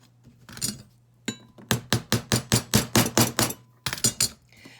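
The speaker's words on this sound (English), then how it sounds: "And I'll hammer that into place." A piece hammered into place on a jig: about a dozen sharp, ringing blows in a steady, quick rhythm, loud and close, with no talking.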